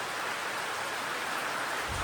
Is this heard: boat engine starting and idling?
no